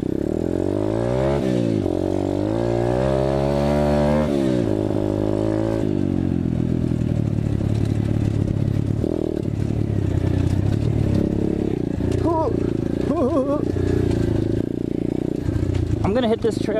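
An Apollo 125cc dirt bike engine revs and drones loudly on a wooded trail, pitch climbing through gear changes and then holding steady, with rattling clatter from the rough ground throughout.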